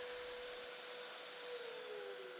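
A shop vacuum acting as dust collection on a woodworking jig for floating tenons whines steadily and evenly throughout, a continuous airy hiss with a fixed tonal whine and nothing else over it.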